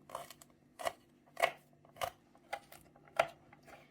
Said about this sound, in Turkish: Sarımsak da doğrayalım.